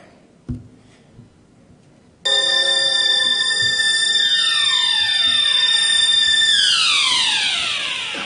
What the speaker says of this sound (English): it starts with an alarm clock